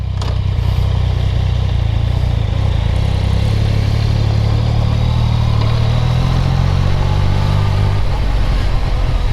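A Yamaha Tracer 900 GT motorcycle is on the move, its engine droning with steady road and wind rush that swells slightly and then eases toward the end.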